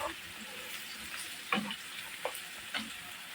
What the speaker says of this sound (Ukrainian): А для капусточки смажу на олії